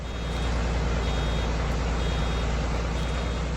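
Steady, loud reversing beeps sound from a farm vehicle in Farming Simulator 22, repeating without break over a dense engine and machinery drone, with no voices.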